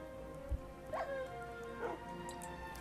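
A dog in a Minecraft-style dinosaur game lets out a few faint whimpers and short yips, spaced about a second apart over a quiet background.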